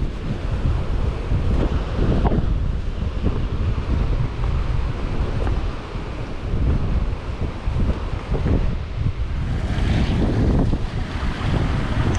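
Wind buffets the microphone on the rocky Cornish coast while waves surge and break nearby, a steady loud roar with no talking.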